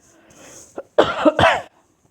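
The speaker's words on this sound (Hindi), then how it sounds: "ये खांसी कब ख़त्म होगा मेरा पता नहीं" A person coughs close up: a small catch, then three harsh coughs in quick succession, then quiet.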